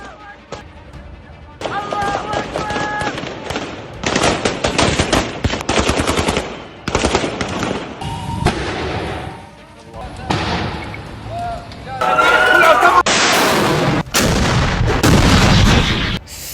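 Gunfire in Syria rattles in dense bursts, with repeated rapid volleys and heavier crackling shots, loud and continuous over long stretches with brief lulls between.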